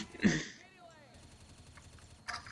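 A burst of gunfire in Left 4 Dead 2 at the start, a ringing echo trailing off, then another short shot near the end.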